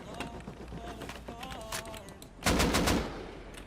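Gunfire in the survival video game Rust: a quick burst of shots rings out near the end after scattered game noises, with players talking over the action.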